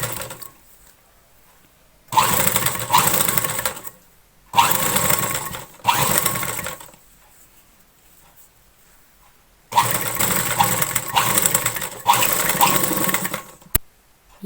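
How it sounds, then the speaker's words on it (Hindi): A sewing machine stitches around a blouse neckline in bursts, running for a few seconds, pausing, then running again, loud and close with quiet gaps between runs. "इस तरह से पलटते हुए हम इसके ऊपर एक सिलाई लगाएंगे"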